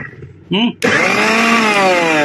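A mixer grinder finely grinds ingredients, starting after a brief spoken phrase with a loud, steady high-pitched whirring motor whine that holds close and continuous to the end.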